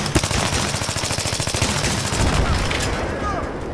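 Rapid automatic gunfire from the video game Take Us North, loud, dense bursts of shots rattling on without pause over a few seconds.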